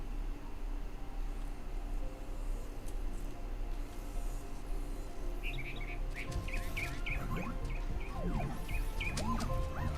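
Bird chirps from a 3D animated short, a series of short bright tweets repeating in a steady rhythm over a continuous low background hum, joined by a few sweeping calls near the end.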